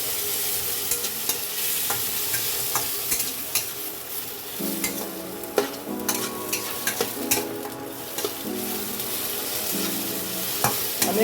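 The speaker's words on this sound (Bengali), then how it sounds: "তারপরে আমি এটা নাড়তে থাকবো" Vegetable Maggi noodles fry on low heat in a pan with a steady sizzle, while a spatula stirs and scrapes in repeated rhythmic strokes; no talking.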